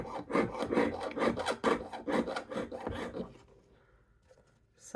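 A rotary burr chatters as it grinds a jewelry piece, a rapid, rough, rasping stutter in quick pulses for about three seconds that then fades to a faint hum.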